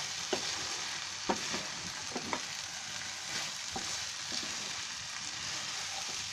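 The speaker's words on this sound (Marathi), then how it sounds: "जरा चरचरायचं कमी होऊ द्या" Mixed vegetables, a Bhogi-style mixed bhaji, sizzle and fry steadily in a pan, a constant crackling hiss with occasional louder pops, and no voices over it.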